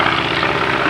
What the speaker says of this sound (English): a fabulous replica of a DH-2, a de Havilland DH-2